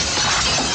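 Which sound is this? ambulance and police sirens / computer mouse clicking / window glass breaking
window glass breaking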